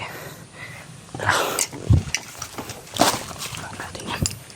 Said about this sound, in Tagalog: May mga aso pa itong mga taong to.